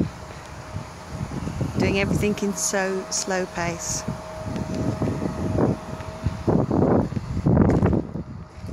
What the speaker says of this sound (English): Might get a bit of noise off of this wind because it's quite windy today